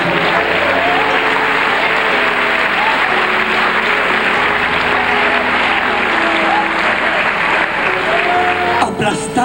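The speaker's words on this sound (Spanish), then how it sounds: "Dele palmas al Rey, aleluya." A church congregation clapping for the King, a loud, continuous roar of hands that runs the full length, with sustained tones, likely music or voices, underneath and a brief clatter near the end.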